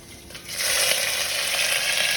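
Dried red chillies and curry leaves dropped into hot oil in a home kitchen, a steady loud close sizzle that swells up within the first half second and holds.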